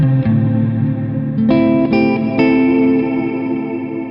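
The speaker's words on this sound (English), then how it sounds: "The reverb sounds more full like this." Ambient electric guitar through a GFI System Skylar reverb pedal: a few clean plucked notes and chords ring out into long, full, shimmering reverb tails that sustain and blend, played alone without speech.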